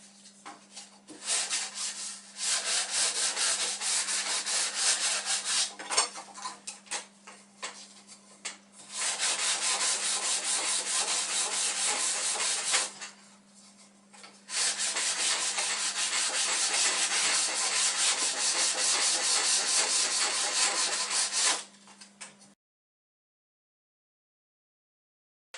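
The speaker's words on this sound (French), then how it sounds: "avant de les coller, on va bien les poncer" Bamboo sticks for kitchen tongs are sanded in long, continuous rubbing strokes, in three loud bursts separated by short pauses, with a steady low hum running underneath and no voices.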